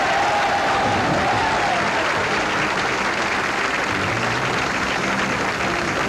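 Steady, dense applause from a bowling tournament crowd at the 1976 AMF Pro Classic fills the space, sustained and even with no pauses or voices over it.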